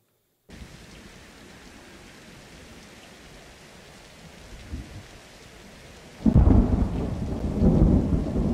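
Steady rain hisses as a game sound effect in Unreal Engine with Wwise, with a soft rumble swelling midway and then a loud, close thunder crash that keeps rolling to the end, with no talking.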